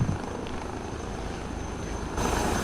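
A helicopter in a multiplayer flight simulator game, bound for Brisbane, gives a steady rotor and engine drone that holds evenly and swells slightly louder near the end, with no talk.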